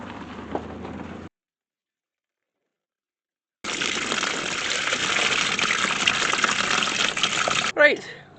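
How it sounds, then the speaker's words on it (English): Coolant gushes from a Ford Fiesta ST150 radiator hose in a steady, loud rushing stream lasting about four seconds. It follows a short rustle and a spell of silence, then ends with a brief trickle. "let's get the coolant drained"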